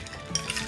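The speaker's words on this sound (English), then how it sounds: "give it a quick little stir" A spoon stirs a dish of poached angler finished with fresh cut mint, a short soft scraping with faint clinks against the pan, close and alone.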